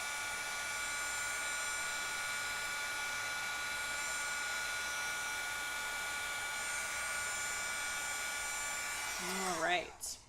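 A heat tool blows steadily while heating foil laid on a layered stencil, a constant whirring hiss running throughout, with a brief voice near the end.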